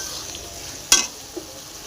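Spice paste of ginger, cumin, nigella seeds and tomato is stir-fried in a wok, giving a low sizzle with one sharp metallic scrape of a spatula midway and a softer knock shortly after.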